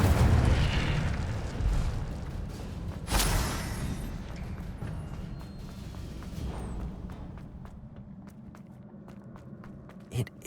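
An Incendio fire spell cast in the Hogwarts Legacy video game bursts out in a loud whooshing blast, then fades into a rumbling game soundscape with scattered small crackles and a sharp pop near the end.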